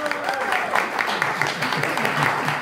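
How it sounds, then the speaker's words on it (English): An audience at a book event applauds steadily throughout with dense clapping, and a voice can be heard under the applause. "So a round of applause for Mike."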